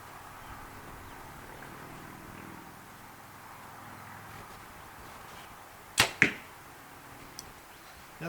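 A compound bow, an Elite Verdict, releases an arrow outdoors: a sharp snap followed by a quick second crack, standing out against faint wind and background hum after several quiet seconds.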